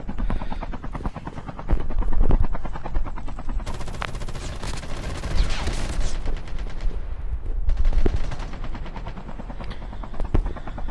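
Rapid gunfire bursts in a Call of Duty Mobile battle royale match, loud and repeated against a steady helicopter drone, with bursts clustering around the middle of the stretch.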